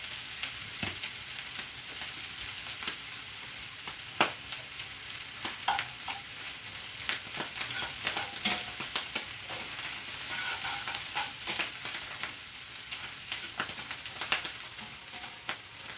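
Mushrooms sautéing in a little butter in a pan, a steady close sizzle and crackle running throughout, with scattered scrapes and stirring taps over the continuous frying hiss.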